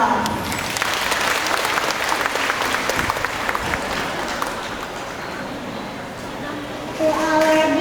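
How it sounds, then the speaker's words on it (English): An audience at a school prep culminating programme applauds a pupil, a steady wash of clapping that eases slightly midway, with faint voices underneath and a speaker starting to talk at the end. "Let us give her a round of applause."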